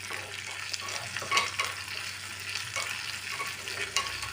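Almonds frying in a pan with steady low sizzling and a few light scraping stir sounds, close and moderately quiet, with no talk.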